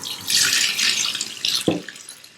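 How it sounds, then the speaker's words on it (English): Rice rinsed under a running kitchen tap for Persian gheymeh, a steady broad splashing rush of water into a sink with a brief deeper gurgle near the end, close and alone. "you want to make sure you wash it until it gets clear"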